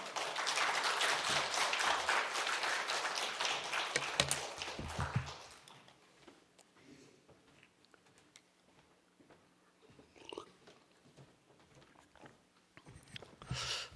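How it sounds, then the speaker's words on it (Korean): Church congregation applauding to welcome a pastor, a dense burst of clapping in the first five seconds that fades out, followed by a quiet room with scattered faint taps and a voice. "목사님 나오실 때 박수로 환영하겠습니다"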